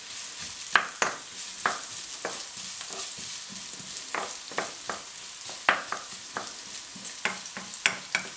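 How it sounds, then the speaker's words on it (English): Chopped onion sizzles steadily in a hot pan for a vindaloo curry, punctuated by repeated scraping clicks of a utensil stirring it, close and fairly quiet with no talking. "There's the onion, folks. So give that a stir."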